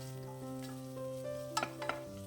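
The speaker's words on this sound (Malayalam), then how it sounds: "ഇതുപോലെ ഒന്ന് വഴറ്റിയെടുക്കുക തന്നെ വേണം." Mint leaves sauté with soya chunks in a pan, a quiet, low sizzle with a short cluster of spatula scrapes and clicks toward the end.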